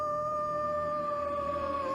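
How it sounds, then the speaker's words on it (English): A werewolf in a Goosebumps episode howls at the moon in one long, sustained, steady wail, loud and close over a low background hum. "He looks at the moon, and he begins to howl."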